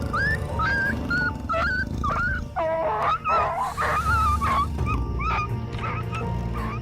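A street dog whimpers, yips and barks as a leopard approaches, a close, agitated run of high whines and rising cries broken by a few sharp barks over a low background hum.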